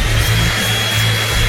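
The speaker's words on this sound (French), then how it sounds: "il suffit de le souffler avec une sèche-cheveux" A handheld hair dryer blows steadily at close range, a continuous loud whooshing hum with a low motor drone, no talk over it.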